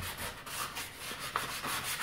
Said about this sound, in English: I'm just buffing out some of these harder, deeper grooved spots.